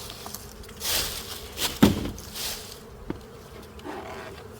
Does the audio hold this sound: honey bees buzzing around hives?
yes